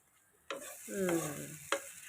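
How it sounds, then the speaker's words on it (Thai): Vegetarian dry sukiyaki being stir-fried in a pan: a sudden sizzle starts about halfway in, then a steady frying hiss with scraping stirs and a second sharp sizzle burst near the end. "เราก็ผัดไปกุเลกุเล"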